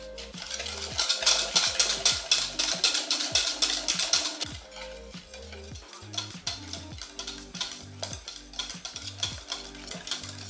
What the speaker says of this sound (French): Apollin, tu peux mettre tes œufs dans ton sucre et tu vas fouetter. Énergiquement.